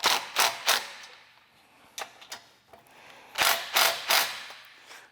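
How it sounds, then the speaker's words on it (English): Bolts on an aftermarket quick drop tongue jack are torqued down with a ratchet, giving short bursts of close metallic clicks separated by quiet gaps, with no voices. "I can go ahead and torque these down just a little bit to make sure everything's secure."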